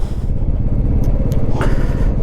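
Motorcycle riding through snow at Shinkula Pass, a loud steady engine drone with wind rush, continuous and close throughout.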